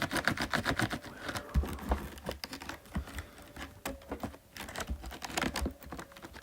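Typing on a Corsair K100 computer keyboard: a rapid, uneven run of close, crisp key clacks with occasional heavier thumps, steady for several seconds with no voices.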